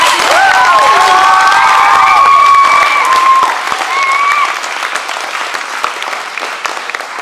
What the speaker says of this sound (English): I want you guys to give one last round of applause for all the parents